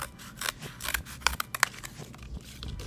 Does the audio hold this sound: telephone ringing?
no